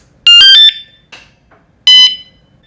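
A 113 dB motorcycle anti-theft alarm blares in two loud, piercing electronic bursts close by, with a short faint chirp between them and a pause before the second burst.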